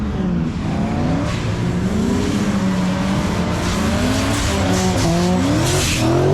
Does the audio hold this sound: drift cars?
yes